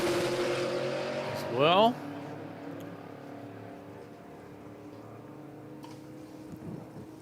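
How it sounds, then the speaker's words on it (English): A race car's tyres give a brief, rising zing as it launches off the start line at the Garrett Sydney Jamboree, under a commentator's voice over steady background engine noise. "a zing of the tyres off the line"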